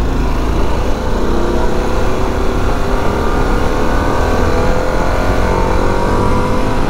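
A Harley-Davidson Pan America motorcycle in sport mode pulls hard on the road, its engine note and rushing wind forming a loud, steady, unbroken drone that stays continuous throughout.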